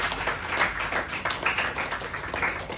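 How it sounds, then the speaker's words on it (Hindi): An audience at a network marketing talk claps, a moderately loud, steady patter of many hands that continues throughout without any talk. "उमा मैडम के लिए ताली बजाइए।"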